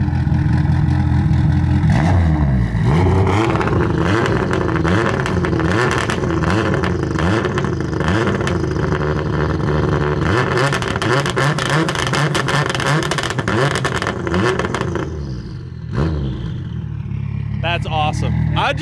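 A 450 hp EVO 2 hillclimb car with antilag, its engine revving hard in a sustained roar with sharp bangs and crackles as the turbo spools, close by, while people talk over it.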